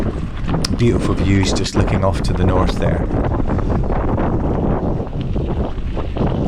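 Strong wind buffets the microphone on an exposed, flat mountain saddle during a heli-biking descent in the Kaimanawa range, a steady loud roar with a person talking over it.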